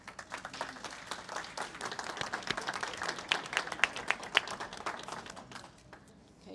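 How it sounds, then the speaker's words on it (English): An audience at a club's monthly meeting applauds newly installed chapter officers, a moderate burst of many hands clapping that thins out and fades near the end. "Will you please join me in a round of applause?"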